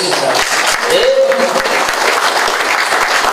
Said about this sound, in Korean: 다시 한번 영광의 박수를 드리면 좋겠습니다